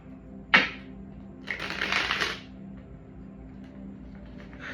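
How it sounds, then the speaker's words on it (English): Tarot cards being shuffled in two riffles, a short crisp burst followed by a longer rasping flutter, heard close over a steady low background hum. "Let me shuffle these cards."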